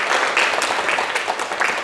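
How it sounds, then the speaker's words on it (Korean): Brief burst of dense, steady audience clapping at a Sunday lecture, loud and sustained throughout with no voices over it. "큰 박수 한번 부탁드립니다"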